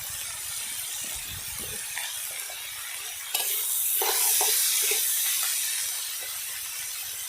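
Cumin seeds sizzle in hot oil while the pan is stirred, a steady close frying hiss that swells louder midway with scraping stir strokes over it, then eases back, for a traditional Bengali banana-flower ghonto.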